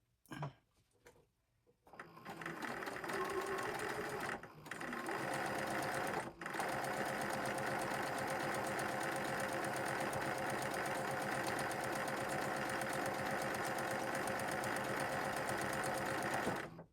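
A sewing machine stitches fabric for a bone-shaped neck pillow, starting with a few short bursts and brief stops before settling into a long, steady, fast whirring run close by, with no talk over it.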